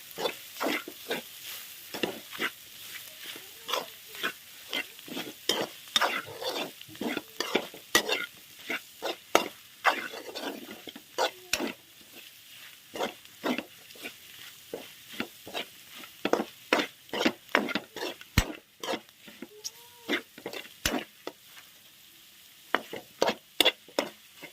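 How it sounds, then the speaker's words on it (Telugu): Mutton boti frying on a high flame while being stirred hard, a loud steady sizzle broken by rapid, sharp scraping and clacking strokes of a spoon against the pan. "దాంట్లోకి సరిపడా సాల్ట్ వేసుకొని బాగా హై ఫ్లేమ్లోనే కలిపేసాలి."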